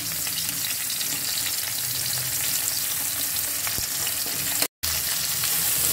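Mixed vegetables with carrots sizzling steadily in a hot pan for a sesame stir fry, a loud close continuous crackle with occasional stirring, one brief cut near the end, no talk.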